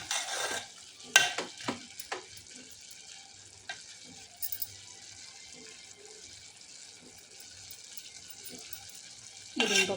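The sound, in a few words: stirring bottle gourd curry cooking in a pan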